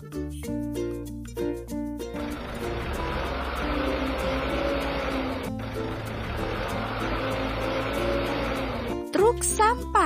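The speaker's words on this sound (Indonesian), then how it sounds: "Truk forklift." A forklift truck engine runs as a steady, broadband motor drone for several seconds, briefly dipping midway, set between stretches of bright, plucky background music.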